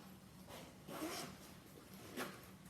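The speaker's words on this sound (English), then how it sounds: "Then on top of this flap, it's kind of an angled zipper here." An angled zipper on a Vera Bradley bag flap is drawn open in short, soft raspy pulls, close but quiet, with two brief louder strokes.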